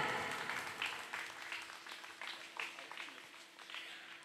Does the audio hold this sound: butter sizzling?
no